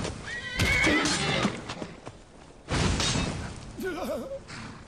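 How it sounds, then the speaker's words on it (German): A horse in the video game Skyrim neighs loudly several times, with sharp whinnies and snorting bursts close by, alongside hoof clatter and a brief crash in between. "Das Pferd dreht durch, warum?"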